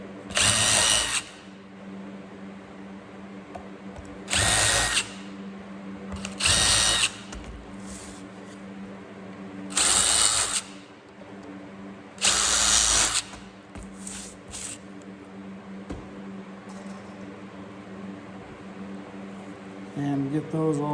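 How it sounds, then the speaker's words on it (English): A power drill pre-drills screw holes in a wooden birdhouse, five loud separate whining bursts of about a second each with short pauses between, over a low steady background hum. "pre-drill with my pre-drill bit"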